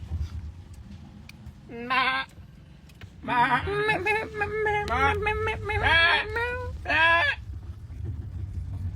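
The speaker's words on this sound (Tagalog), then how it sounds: "that's a goat" A goat bleats repeatedly, several loud wavering cries in quick succession, close by over a low background hum.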